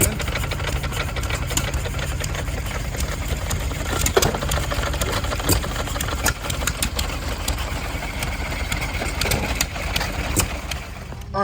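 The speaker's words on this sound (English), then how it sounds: "This was a hit or miss. You hear how it winds down and then it hits again." Antique air-cooled hit-or-miss engine at an outdoor farm show, chugging with sharp intermittent firing bangs as it coasts down and fires again, amid steady background noise.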